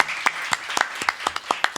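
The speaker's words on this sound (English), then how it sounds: "Another big round of applause for Mr." Audience applause at a jazz masterclass at UKZN: a small crowd's quick, irregular claps, fairly close and moderately loud, with no talking over them.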